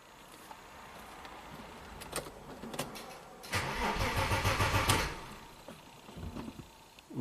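An Audi with a weak battery cranking without starting, a faint whirring crank for about a second and a half mid-clip, then quieter sounds, close and alone.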